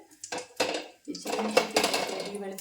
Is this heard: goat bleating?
no